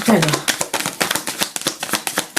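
Tarot cards being shuffled for a reading: a rapid series of crisp riffling and slapping bursts, close and fairly loud, with a brief voice at the start.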